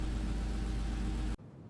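The Sterling GT sports car in a video game, its engine holding a loud, steady, deep drone before cutting off abruptly into a low lingering rumble.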